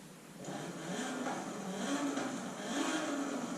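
Audi Sport quattro in Forza Horizon 5, its engine revving steadily with a rising and falling tone throughout, a continuous close, moderately loud game engine drone without any talking.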